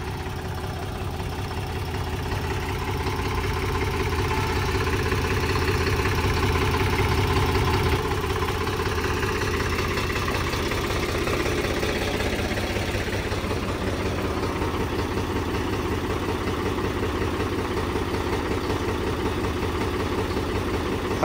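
An old New Holland tractor diesel engine, once submerged in water and since repaired, runs steadily at idle for about twenty seconds, a loud, even low rumble with a constant knocking throb and no talk.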